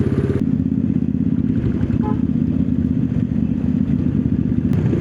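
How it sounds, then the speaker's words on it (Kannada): Royal Enfield motorcycles on an Independence Day group ride in Udupi with a police escort thump along, a loud, steady low exhaust rumble close by and continuous throughout. "ನನಗೆ ಅವ್ರದ್ದು ಬೈಕ್ ಇದೆ ಎಕ್ಸಾಸ್ಟ್ ಇಷ್ಟ ಆಯ್ತು"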